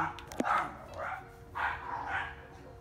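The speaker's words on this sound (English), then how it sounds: "Excuse those dogs, guys. There's lots of dogs in the neighborhood" Neighborhood dogs bark in a few muffled, somewhat distant yaps spaced across a couple of seconds, with no talk.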